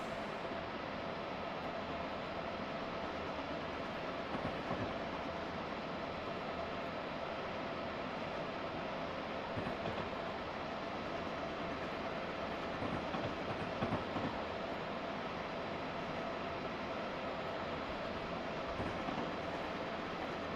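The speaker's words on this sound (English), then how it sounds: "So this will be a very good chance to see the train in operation at full speed." A train running at full speed on the main line in the Open Northeast Corridor simulator, a continuous roaring rumble with faint rhythmic rail clatter throughout, steady and unbroken, with no voices.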